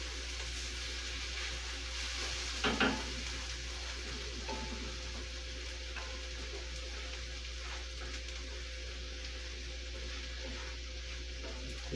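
Onions sauté in a pan for homemade pizza veggies, giving a steady, even sizzle over a low kitchen hum. A brief stir or scrape breaks in once near the start.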